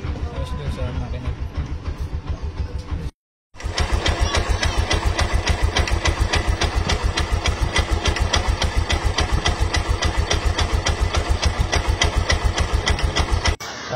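A Bajaj RE auto rickshaw engine idles low, with a steady, rapid, even thump that runs throughout, close and loud. The engine drops out for a brief gap, then resumes.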